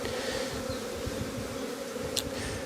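Honeybees shaken off a hive frame buzz in a dense, close, continuous drone, with a faint brief knock near the end.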